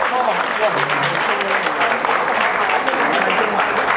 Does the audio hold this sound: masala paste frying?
no